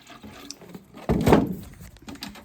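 Water poured over flower seedlings such as ranunculus and anemones in a hoop house: a short trickle that swells into a close, splashing pour for about a second, then fades.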